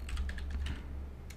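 Quick typing on a computer keyboard, a short run of crisp key clicks over a steady low hum, with nobody talking.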